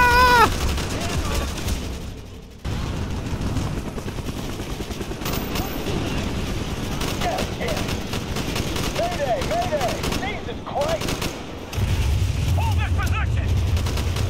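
Shotgun blasts in Call of Duty Black Ops, a veteran-difficulty jungle mission, with repeated heavy gunfire bursts amid constant battlefield clamor and distant helicopter rumble, under occasional talking from a player.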